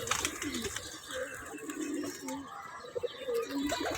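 Pigeons released from a loft coo softly and repeatedly close by, with faint chirps and a light outdoor background and occasional soft voices.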